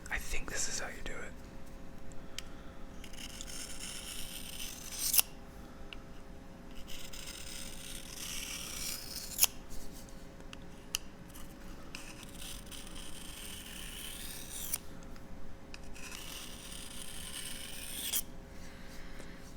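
A pocket knife blade is rubbed at an angle across a sharpening surface in a quiet indoor setting, giving steady soft rasping strokes that continue throughout, close and gentle, with occasional small clicks and faint whispering.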